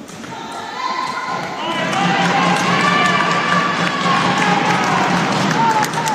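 Home supporters cheer and shout at a women's Serie A2 volleyball match between Olbia and Mondovì, a broad crowd roar that swells after the first second and holds steady, with ball thuds and court noise mixed in.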